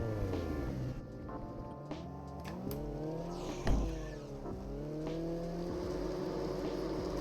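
A motorized drift trike driven in BMX Streets, its engine humming and revving with rising and falling pitch sweeps, a sharp thump partway through, steady and close without talk.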